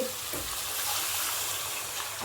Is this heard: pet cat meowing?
no